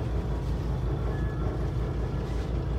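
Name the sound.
cruise boat engine idling while stopped in Mikawa Bay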